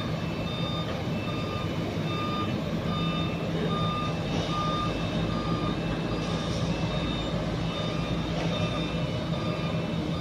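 A truck at a PNR warehouse in Sta. Rosa, Laguna sounds regular reversing beeps at an even rhythm over a constant low engine rumble and broad outdoor noise, moderately distant, with no talking.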